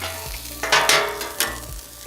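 Cajun fried rice sizzles and crackles in a hot pan while a utensil scrapes and stirs through it, with louder bursts of frying as the rice is pushed aside, close and steady with no talk.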